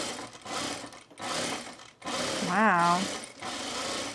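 A sewing machine stitches through fabric in rapid mechanical runs with brief pauses, fairly close and loud, while a woman exclaims briefly over the clatter.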